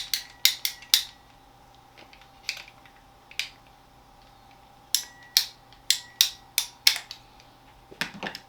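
PVC pipe being cut for a hobbit-style fantasy lantern made from a plastic lantern: sharp, crisp snipping clicks, a quick cluster early on, then a steady run of evenly spaced cuts later, close and clear with no talking.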